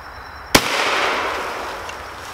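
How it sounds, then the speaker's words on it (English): A shotgun fires once with its muzzle pushed inside a pumpkin as an improvised suppressor, giving a single sharp, loud outdoor blast followed by a long fading rumble, with no talking. "sticking the muzzle of your shotgun inside of the pumpkin and making an improvised suppressor"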